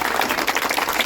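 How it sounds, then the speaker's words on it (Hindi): Applause from a crowd at an outdoor political rally welcoming a parliamentary candidate, a dense steady patter of many hands clapping close by with no talk over it. "तालियों के साथ उनका स्वागत किया जाए।"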